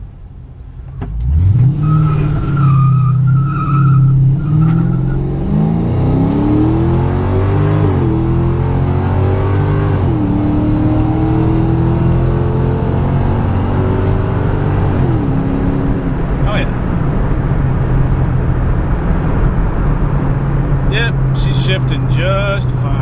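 A 2005 Ford Mustang GT fresh from a transmission swap starts up and pulls away on a test drive, its engine rising through several loud revving climbs and shifts before settling into a steady cruise, with talking inside the car.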